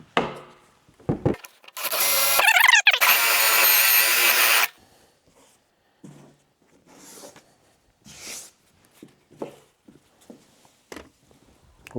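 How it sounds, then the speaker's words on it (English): A loud, continuous power drill burst grinds a conduit hole through a water reservoir tank for a few seconds, followed by quieter scattered clunks and handling noises. "that's where I'm going to drill my hole for the conduit penetration"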